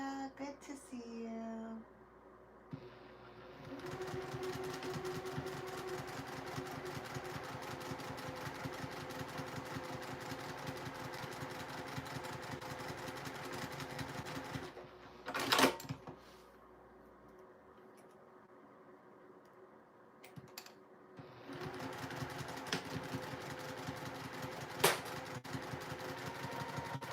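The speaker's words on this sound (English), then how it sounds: "So now I'm going to sew down the right and the left hand side, and that's going to create a tri-folding panel." A sewing machine runs steadily, stitching down the sides of a fleece-backed panel to form a tri-fold Santa caddy, with a brief pause midway before the motor hums again at close range.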